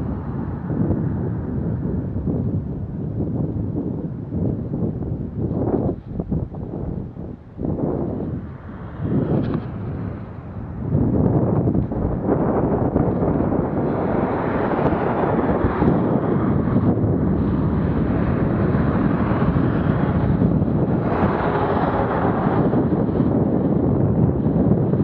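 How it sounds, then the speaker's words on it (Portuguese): Wind noise buffeting a microphone while cycling outdoors on a ride to a university campus, a steady loud rumbling roar that gusts and thickens, continuous and close throughout with no talking. "Vai fazer barulho agora o vento."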